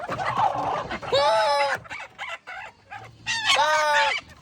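Free-range village chickens squawk and cluck nearby in loud, harmonic bursts, with a couple of longer drawn-out calls amid rustling background noise.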